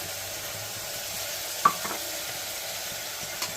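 Beans, carrot and potato fry in oil with a soft, low, steady sizzle, plus one sharp utensil tap and a few faint scraping touches from stirring.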